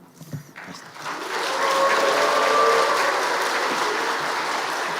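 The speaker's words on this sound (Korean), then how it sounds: "다 같이 박수를 치면서 환호도 하고 그렇게 맞아드리겠습니다" A church congregation bursts into sustained applause and cheering to welcome a missionary at a Sunday afternoon service, swelling after a quiet start and holding loud and steady to the end.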